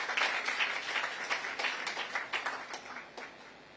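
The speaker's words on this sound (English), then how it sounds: "I think Landmark deserves a round of applause." Faint applause from a gathering at a business event about a proposed beach resort demolition in Lagos, a short burst of scattered clapping that fades out toward the end.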